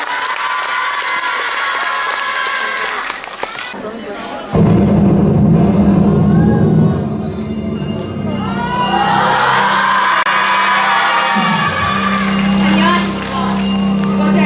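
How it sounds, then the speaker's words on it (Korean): A school audience at a girls' high school presentation event breaks into loud applause with cheering and whoops. The sound starts after a moment of quieter room noise, then stays full and close, with shouts rising above the clapping. "큰 박수로 맞이해주세요."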